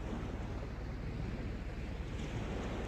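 Soft ocean waves wash continuously at moderate distance, with a steady breezy hiss and no voices.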